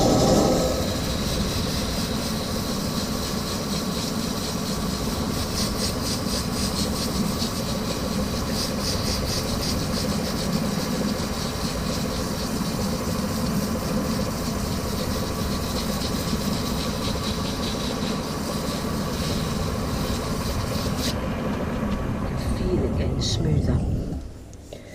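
A wood and resin pen is sanded with 400-grit paper, giving a continuous, even abrasive whirr with machine-like rumble that holds steady and close for over twenty seconds before cutting off at the end.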